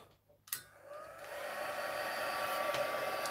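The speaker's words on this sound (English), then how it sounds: "I'm going to make some noise. I'm going to use my heat gun." Heat gun used to dry a watercolor painting, switching on with a click and then roaring as a steady, broadband hot-air blast whose pitch rises slightly as it spins up, close and continuous.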